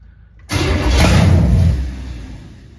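A 383 stroker V8 in a Camaro cranks and catches on its first start-up, bursting into a loud, rough roar that holds for about a second before settling toward a lower rumble, close by and without talk.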